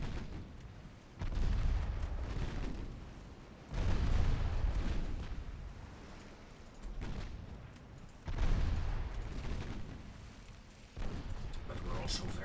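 Naval guns fire at close range in a warship battle game, Ultimate Admiral Dreadnoughts, with about five heavy booming salvos at irregular intervals, each rumbling out over a continuous low battle drone.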